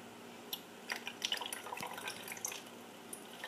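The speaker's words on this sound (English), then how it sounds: "So now you can add in that 1/4 a cup of vinegar." Vinegar tinted with red food coloring is poured into a bottle, producing close, irregular splashes and drips at a moderate level, with no talking.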